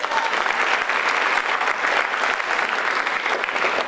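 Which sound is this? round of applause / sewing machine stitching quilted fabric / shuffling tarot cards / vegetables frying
round of applause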